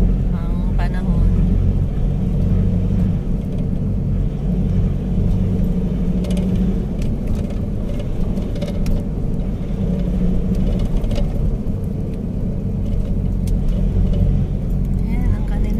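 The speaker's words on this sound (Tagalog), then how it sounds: "Ayan, ang kanilang mga sasakyan." Vehicles move along a road at Camp Aguinaldo under light drizzle, giving a continuous close engine rumble and whir with occasional swells as they pass. A person talks intermittently over the traffic.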